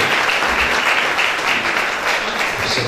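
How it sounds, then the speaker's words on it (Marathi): A church congregation claps hard and steadily for a preacher, a dense wash of hands filling the room without pause for the whole stretch. "Give a great clap to the man of God."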